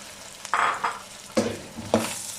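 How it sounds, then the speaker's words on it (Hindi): Loud close frying hiss as tomatoes and green chilies fry for mutton pulao, with a few scraping stirs, bursts rising and settling, no voices. "अब इसमें टमाटर और हरी मिर्च डाल देते हैं।"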